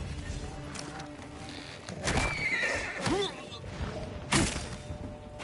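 A horse in the video game Ghost of Tsushima whinnies in short bursts, with clip-clop hooves and game effects around it and speech mixed in.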